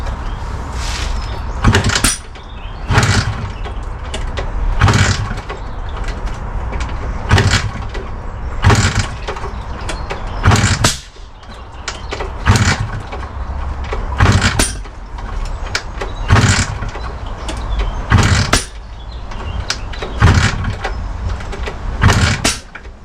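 A 42-year-old Suzuki engine, its carburettor float just adjusted, goes through repeated starting attempts: loud, close bursts recur about every second and a half, and the engine never settles into a steady run.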